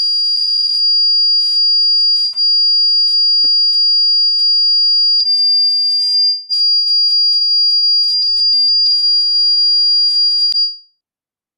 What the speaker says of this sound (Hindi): विसिल मार रहा है सजल तुम्हारा फोन